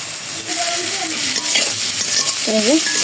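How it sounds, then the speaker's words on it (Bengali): A vegetable bhaji with turmeric, salt and green chillies fries in oil with a loud, constant close sizzle, a few brief faint whistly tones riding over it and no speech. "আর একটু ভেজে নেই ভাজিটা"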